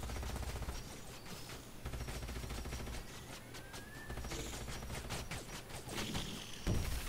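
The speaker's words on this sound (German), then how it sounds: "jetzt wird auch hier hoffentlich losgeballert" Gunfire in the sci-fi strategy game Age of Wonders: Planetfall: rapid repeated shots crackle in quiet, continuous bursts over game music, fairly faint throughout, with no voices.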